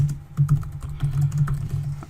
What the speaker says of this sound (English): I'm going to type some random things and I'm going to hit save.